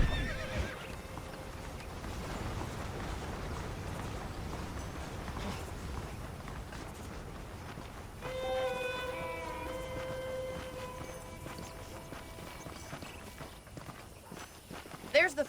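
A horse in the Red Dead Redemption video game on PS5 lets out a clear whinny midway, with hooves clip-clopping at a walk beneath background talk.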